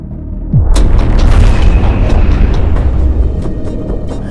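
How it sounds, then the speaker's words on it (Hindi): A loud, deep bomb explosion at the World Trade Center in New York, 1993, booms suddenly, followed by a long rumbling roar with crackling debris that slowly fades. "अमेरिका का माशी दारुल हुकूमत न्यूयॉर्क जोरदार धमाके से लरज़ उठता है"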